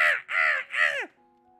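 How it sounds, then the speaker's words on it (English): A crow caws three times outside a window, loud harsh calls in a steady rhythm, the last one sliding downward before fading into quiet. "There's a crow outside my window when he's going,"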